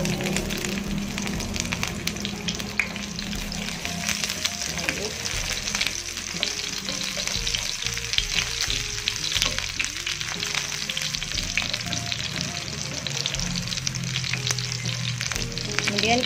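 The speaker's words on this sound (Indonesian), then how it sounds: "Ini minyaknya sudah panas, kita masukkan bawang merahnya" Steady, loud sizzling of shallots frying in about 15 ml of hot oil, a continuous crackle with occasional stirring clatter and no talking.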